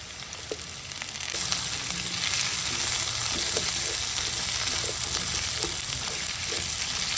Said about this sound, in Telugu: ఇందులోకి మనం ముందుగా సన్నగా కట్ చేసి పెట్టుకున్న సొరకాయ ముక్కలు కూడా వేసేస్తుంది